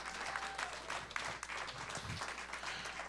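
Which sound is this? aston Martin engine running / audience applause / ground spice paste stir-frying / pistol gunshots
audience applause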